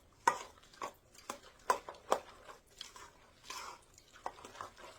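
A spoon works through a crab cake mixture with a big onion in it, giving intermittent wet squelching and crunchy stirring sounds with sharp clinks against the bowl, close and fairly quiet, in an irregular rhythm.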